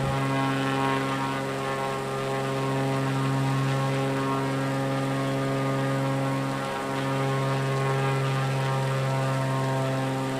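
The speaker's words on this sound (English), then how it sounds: "Flying over the trees." Steady, loud propeller aircraft engine drone heard from inside the plane while flying over trees, a constant harmonic hum with a brief dip in pitch partway through.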